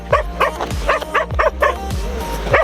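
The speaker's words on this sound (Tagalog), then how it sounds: "Daming aso." Several dogs bark in rapid, overlapping bursts nearby, loud and excited yaps repeating through the clip.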